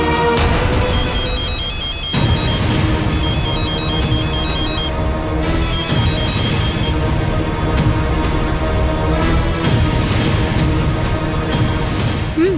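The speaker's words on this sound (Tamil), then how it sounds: "ரிங் போயிட்டு இருக்கு." A phone ringtone plays in a Tamil TV serial scene, a loud repeating melodic pattern of bright tones that starts and stops in regular bursts over a dense, steady background.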